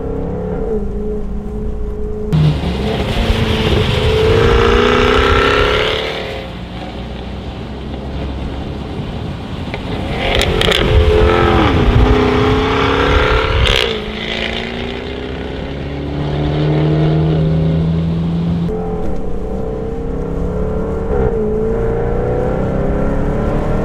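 A Jaguar F-Type V8 S, a 500 hp rear-wheel-drive car, revs its engine in the rain in swelling, rising and falling bursts, loud and close, with heavy wind rush and road roar around it.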